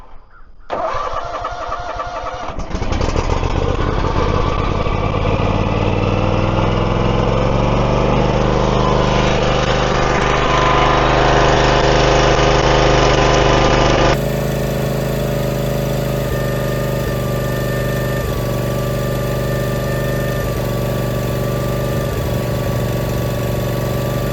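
A small lawn mower engine cranks, catches and roars to life, then runs at a steady loud drone, settling into a constant rumbling idle.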